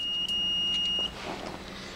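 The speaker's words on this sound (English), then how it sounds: "if you touch the two things together, you're going to hear a beep" A multimeter's continuity test gives a steady high-pitched electronic beep for about a second, briefly interrupted, then cuts off into faint background noise.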